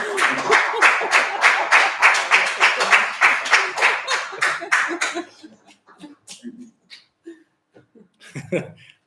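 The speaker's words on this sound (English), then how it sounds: "can everyone give a big round of applause to Sarah" During a maritime heritage webinar, participants on unmuted microphones clap for Sarah. Loud, rhythmic claps come in a close, regular series, then fade into scattered single claps and a little laughter and chatter.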